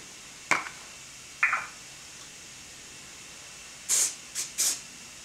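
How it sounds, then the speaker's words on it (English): Short bursts of aerosol activator spray hiss close by onto a bead in wood: two quick puffs, a pause, then three more sprays in quick succession over a quiet background. "spray the BB with the activator"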